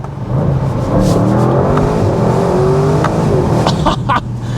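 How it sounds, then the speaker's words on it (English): A 2025 Audi RS6 GT with a 4-liter engine, heard through open windows while driving on a wet road: a loud, sustained engine roar that climbs in pitch as it revs and accelerates, with a few sharp pops near the end. "It's like a Lamborghini Urus just coming at you, because it's the same engine, and that sound of that 4-liter is just so aggressive."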